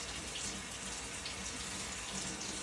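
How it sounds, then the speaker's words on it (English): A kitchen tap runs steadily while hands are washed, a constant close hiss of flowing water with no voices. "I'm gonna wash my hands quick."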